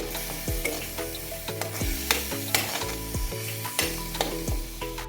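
Onion-garlic masala being stirred in a frying pan: a spatula scrapes and knocks against the pan in repeated strokes over a constant sizzle, close and clear, with no talking.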